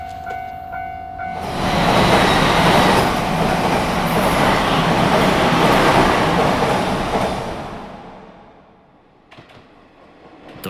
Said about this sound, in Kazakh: Токио бағытындағы жүретін Киособу желісінің соңғы пойызы келіп жатыр.